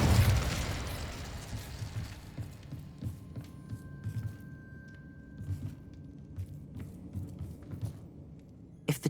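An Incendio fire spell from Hogwarts Legacy erupts in a loud fiery whoosh that fades over a couple of seconds into a low rumbling hum, with faint crackles and scattered small knocks following, and no voices.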